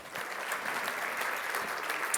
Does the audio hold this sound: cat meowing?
no